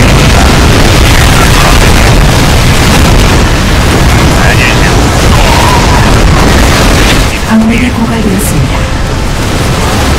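Explosions in the StarCraft II campaign, a dense, continuous roar of booms and blasts at full loudness across the whole stretch, with someone talking over the battle noise.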